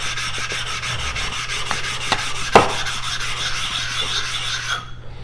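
Steady scraping rasp of a blade being polished on an Indonesian natural whetstone, continuous back-and-forth rubbing up close with a few sharper clicks, ending abruptly.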